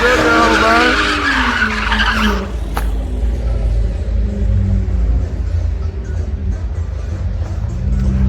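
Car skidding sideways out of a burnout pit at a night street-racing event, a loud sustained tire squeal over a rumbling engine, fading into a heavy engine roar as the car pulls away.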